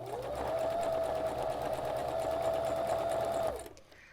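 A sewing machine sews a wide stitch set to width 4, running in one steady, close, even whir for about three seconds before stopping.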